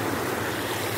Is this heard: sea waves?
yes